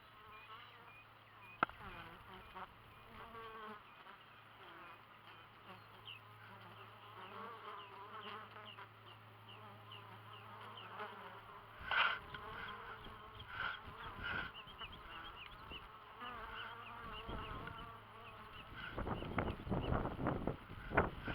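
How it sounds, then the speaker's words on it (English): Honeybees buzz steadily at a busy hive entrance, a close, continuous drone of many wings with individual bees swooping past the microphone, growing louder toward the end with some wind noise. "Love these bees."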